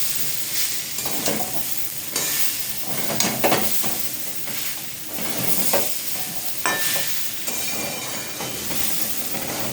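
Ground spices and garam masala being stirred in a hot pan for khichuri, a continuous sizzle broken by repeated scraping strokes of a spoon, near and without speech.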